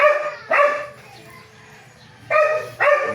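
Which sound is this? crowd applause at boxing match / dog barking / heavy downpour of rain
dog barking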